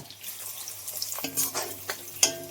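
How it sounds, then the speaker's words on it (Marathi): Five cloves of garlic and chopped onion drop into hot oil in a Konkan-style chicken pan, breaking into a bright crackling sizzle after a quiet start, with a few clinks of a utensil against the pan close by. "तेल तापलंय आता यात घालते मी पाच पापल्या लसणीच्या कांदा"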